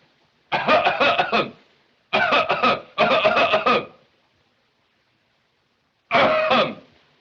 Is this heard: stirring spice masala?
no